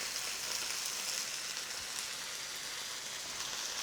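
Meat stir-frying in a pan over high heat gives a steady, bright sizzle that stays even and close, with no talking over it.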